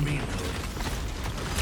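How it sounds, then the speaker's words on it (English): A mech's weapon reloading in the game Steel Hunters, with steady mechanical ratcheting and creaking clicks running throughout at moderate level and a sharper clack near the end. "Commencing reload."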